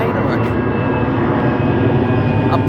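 Airplane passing overhead near a train station, a steady loud engine roar that fills the whole stretch, with faint background sounds.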